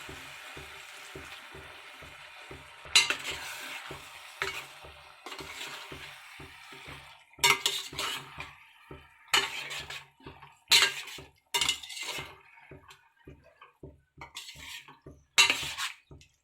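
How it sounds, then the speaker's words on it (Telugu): A utensil clinks and scrapes against a pot while bottle gourd curry with cooled milk is stirred, in irregular bursts over a steady low rhythmic background. "చల్లారిన పాలు వేసుకోవాలండి."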